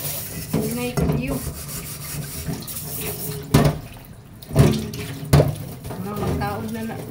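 Cooking pots are scrubbed in a sink under running water, with rubbing, scraping and occasional metallic clanks of the pots over a steady trickle, while a person talks.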